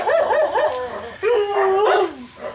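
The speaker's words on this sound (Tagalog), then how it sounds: "Ayan po yung alagaan nating aso." A dog gives a quick series of yipping barks, then a longer whining howl, close by and loud.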